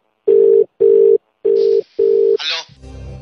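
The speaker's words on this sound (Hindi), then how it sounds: "फोन लगायो भाई" A telephone dial tone plays in four even, loud beeps as a call is placed, followed by a brief burst of dialing and line noise.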